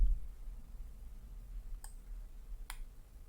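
Two faint, sharp mouse clicks sound alone against a quiet background hum as a window is closed in a trading app on a computer.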